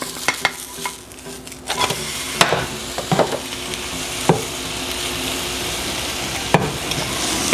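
An egg souffle with cheese sizzles steadily in a frying pan, close up, with scraping and soft clacks of a utensil as it is turned and flipped. No voices can be heard.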